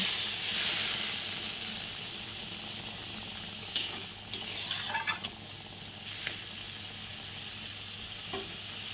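Taro curry frying in a hot pan as a little water is added, giving a steady close sizzle with a few brief louder spits and crackles, no voices.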